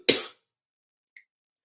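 A single sharp, close cough from a broadcaster during a Dodgers vs. Braves National League Championship Series baseball game, followed by near silence.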